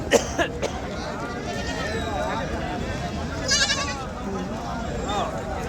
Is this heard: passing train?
no